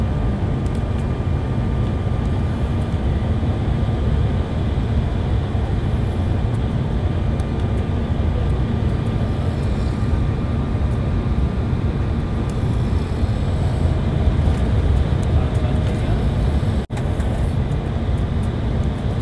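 A StarAir passenger plane landing at Ahmedabad, heard from inside the cabin as a steady, loud low engine and air roar that continues without a break.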